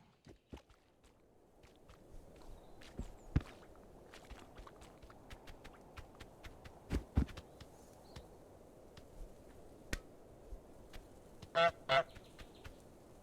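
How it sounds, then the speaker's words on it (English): In Untitled Goose Game, a cartoon goose gives short, sharp honks in quick bursts near the end, with soft pattering footsteps and faint clicks across an otherwise quiet ambience. "Whenever the goose has something in its mouth, you'll notice the timbre of the honk changes."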